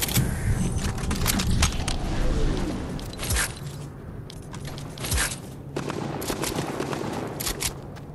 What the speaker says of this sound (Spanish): ¿Quién se está disparando, güey?